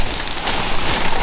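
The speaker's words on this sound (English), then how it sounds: "it's pissing down at the moment" Heavy rain pours down in a dense, steady hiss, close and loud, with no voices.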